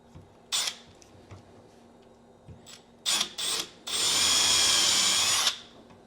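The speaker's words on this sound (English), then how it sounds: "I'm gonna just basically drill in maybe a 1/4 inch of the way" A power drill whirs in several short bursts, then runs steadily for about two seconds, drilling partway into a cabinet for hardware, close and fairly loud against a quiet room.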